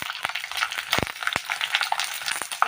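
Potatoes hit browned, frying onions in hot oil with a bright, steady sizzle, crackling close and loud and broken by a few stirring clicks against the pan.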